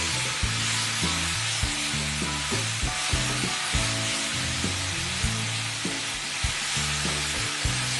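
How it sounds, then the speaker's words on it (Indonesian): Chilies sauté in a hot pan until wilted, giving a loud, constant broadband sizzle with rhythmic low scraping and stirring strokes throughout, close up and with no voices. "Tumis sampai layu nih cabenya biar mateng."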